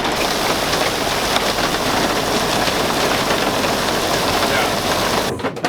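Heavy downpour hammering the roof of a converted bus during a flash flood, a dense, loud, continuous roar of rain that cuts off abruptly at the end.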